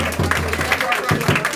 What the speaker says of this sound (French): Acclamez très fort pour les chargés.